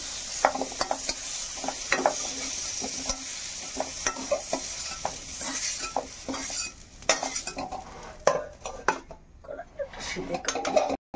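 Fried potato pieces are lifted and stirred out of a pan for a Hindustani doi aloo, with a steady sizzle of oil and repeated scraping and clinking of a utensil against metal, close and fairly loud.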